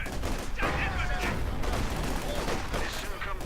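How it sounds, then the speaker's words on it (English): Mortar blasts and gunfire from a Company of Heroes 2 battle between Soviet conscripts and German Grenadiers, a dense, continuous spread of shots and bursts with commentary talking over it. "we do see a mortar going off against the Grenadiers"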